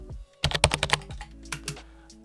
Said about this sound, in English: that is how you create a typing effect in Davinci Resolve